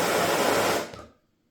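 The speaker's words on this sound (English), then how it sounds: "Yeah, it's definitely more ferocious, that flame." A gas torch with a chunky nozzle roars with a broad, ferocious flame, loud and close, then cuts off abruptly and fades to silence.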